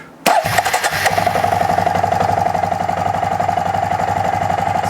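Arctic Cat 400 ATV engine cranking and catching after a brief starter whir, then settling into a steady, rhythmic mid-pitched idle with a constant putter, close and loud throughout.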